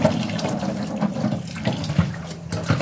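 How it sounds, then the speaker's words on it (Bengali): Tap water runs steadily into a sink while eggs are washed and rubbed under it, a close, continuous splashing flow with small knocks and scrubbing sounds. "ডিমের গা ভালোভাবে না ধুলে একদমই ভালো লাগে না।"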